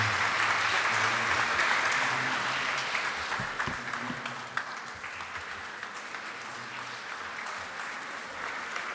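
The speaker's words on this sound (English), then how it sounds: "Let's give a bigger round of applause," Audience applause at a philosophy and saints event, a dense steady clapping from a large crowd that fades gradually toward the end, with no talk over it.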